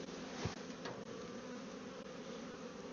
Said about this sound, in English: I'm seeing lots of bees with lots of pollen that they're bringing in